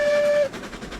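A locomotive in the RailRoads Online game gives a brief steady whistle tone, then cuts to a rolling, rumbling run, loud and close.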